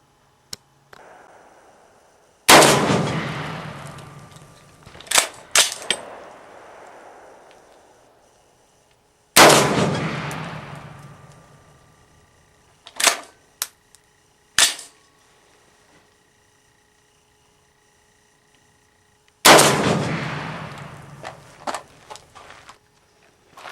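Three loud, sharp rifle shots from a 300 AAC Blackout with a 21 1/8 inch barrel and IMR 4227 powder load, spaced several seconds apart, each followed by a brief ringing decay and faint clicks.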